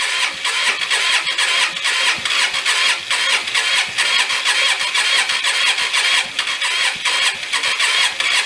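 A Hyosung Aquila motorcycle, dead for nine years, cranks over on its starter with a loud, close, pulsing whir that repeats rhythmically without settling into a clean idle.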